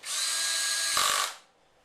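A power drill drives screws into a waterski fin with a close, high, steady whir for just over a second, then winds down and stops, leaving quiet.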